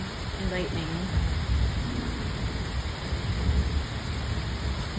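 Rain pours steadily during a thunderstorm on the Appalachian Trail, a dense wash of sound with low rumbling underneath and a brief voice near the start.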